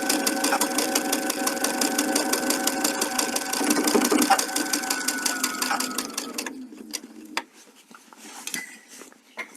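A sewing machine quilting fabric runs in a fast, steady stitching rhythm for several seconds, then stops, leaving faint handling and shifting noises close by.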